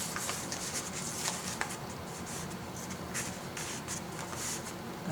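Paper being folded by hand for an origami phone stand: soft, close rustling and scraping with a few sharper creasing taps, faint and continuous, no voices heard.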